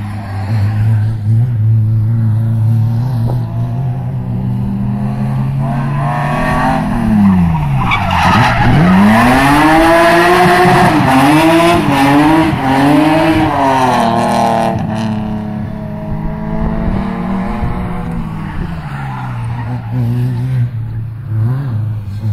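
A car revs hard while drifting and spinning donuts, with a steady loud engine drone, rising and falling pitch and tire squeal swelling in the middle, close and with no talk.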